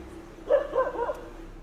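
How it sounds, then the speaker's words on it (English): Dogs bark at night outside a college in India, a short cluster of a few faint, distant barks over a low background hum. "The footage depicts a group of dogs outside barking incessantly at something hidden from view."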